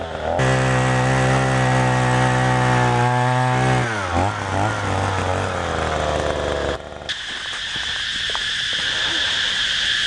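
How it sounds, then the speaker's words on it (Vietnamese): An Oshima 2B earth auger drills into hillside soil, its small two-stroke engine roaring loud and close with a steady whine, then bogging and revving unevenly as the bit bites into the ground. "Máy khoan đất Oshima 2B với công suất mạnh mẽ và mũi khoan hợp kim thép rất bền bỉ"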